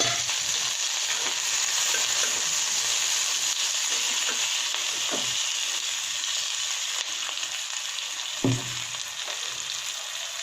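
Chopped raw onions fry in white oil in a kadai, giving a steady, even sizzle throughout, with a few faint stirring scrapes and one brief knock near the end.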